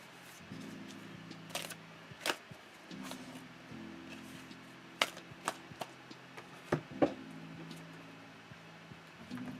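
Thick tarot cards being handled and shuffled indoors, giving scattered soft slaps and taps spread over several seconds against a low steady hum.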